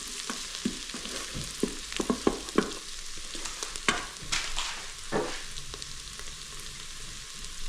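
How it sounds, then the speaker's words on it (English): Fennel and fenugreek seeds fry in a pan for a lentil stew. A soft sizzle runs underneath while sharp scrapes and clicks from stirring come close together, with no talking. "4 grams of fenugreek. And just give them a fry off as well."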